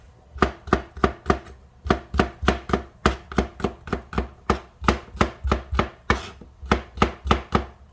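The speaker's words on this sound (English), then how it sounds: "I actually like chunks of garlic in mine, so I'm just going to cut it" A knife chops garlic into chunks on a board, about two dozen sharp, evenly paced strikes close by, steady and loud, with no talking.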